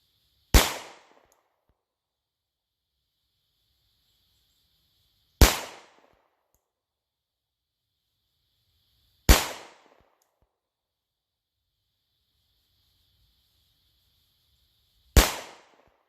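Four sharp, loud shots from a Sig Sauer P365XL pistol fitted with a Wilson Combat grip module, fired singly at intervals of about four to five seconds, each crack decaying quickly into near silence with no talking.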